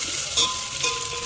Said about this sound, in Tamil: வெங்காயம், பச்சை மிளகா ரெண்டையும் ஆட் பண்ணிவிட்டு நல்லா வணக்கி விட்டுக்கிறோம்.